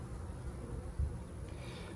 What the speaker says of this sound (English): there's a lot of bees on there